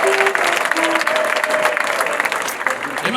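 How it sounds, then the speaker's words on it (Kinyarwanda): A church congregation claps together at a Sunday service, dense sustained applause with a faint tonal line running beneath it, steady throughout. "tuyikomere mu mashyi"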